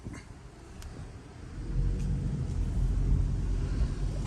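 A Volkswagen Passat with a turbocharged 1.8-liter four-cylinder engine pulls away, a faint low rumble that swells about halfway through and then holds steady.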